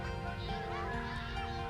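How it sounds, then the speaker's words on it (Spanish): Dense, continuous calling of a breeding Audouin's gull colony on Isla Grosa, the largest island off the Murcia coast, a loud, steady chorus of overlapping honking cries filling the whole stretch without pause. "En Isla Grosa, la mayor de nuestras islas, encontramos también una población reproductora de la gaviota de Audouin"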